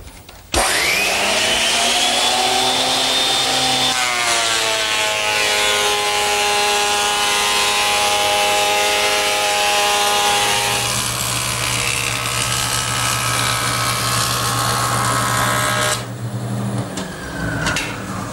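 A surface planer feeds wood boards for an outdoor lidded bench with a loud, steady whine, and the motor pitch shifts as the cut starts and as the boards run through, until it winds down near the end.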